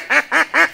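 A duck gives three evenly spaced, loud, close quacks in quick succession.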